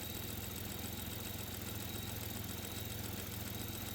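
A Buick LeSabre engine idles steadily low with a fast ticking, puffing rattle from an exhaust leak at the EGR, running evenly throughout, close and continuous with no voices.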